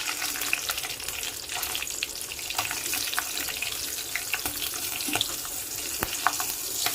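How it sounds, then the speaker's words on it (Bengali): Black cumin seeds and green chillies frying in hot oil give a steady, close sizzle with scattered small pops, no voices over it. "এই তেলেই দিচ্ছি আমি 1 চামচ পরিমাণ কালো জিরে আর 4টে কাঁচা পাকা লঙ্কা।"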